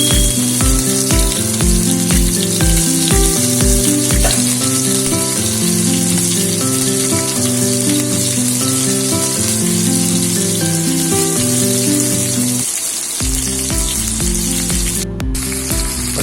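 Chemmeen (prawns) fry in a pan with a steady close sizzle, partly covered by background music with a steady beat.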